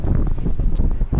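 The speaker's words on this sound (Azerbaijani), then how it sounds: "Bax, küləkdir. İndi ola bilsin, külək biraz mani olsun." Wind buffets the microphone in loud, uneven gusts, with rough low rumbling and faint rustle throughout.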